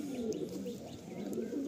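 Pigeons kept for sale, including young birds, coo steadily in low rolling calls with a few faint chirps, close by and continuous with no talk.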